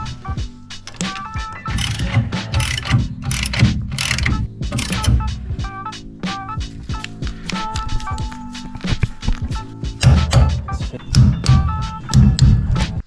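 Bolts on a Vaga brake assembly for a Wander Tears build are snugged with hand tools: busy metallic clicks, ratcheting and clanks in a close, continuous sequence with no one speaking.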